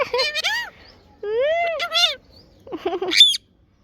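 A pet parrot gives a few short, bright laughing calls in separate bursts, close and clear against a quiet room, ending in silence.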